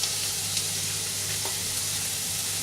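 Flour being stirred into a sizzling pan while making fisherman's pie, with a steady, even frying hiss and a few faint scrapes from the spoon.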